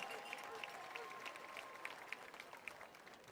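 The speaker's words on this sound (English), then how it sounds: "How about a big round of applause for all the members of your 2024 Harris County High School Homecoming Court." Stadium crowd at a high school football game applauding the 2024 Harris County High School homecoming court, a distant, thin wash of clapping and cheering across the open stands, with faint voices mixed in.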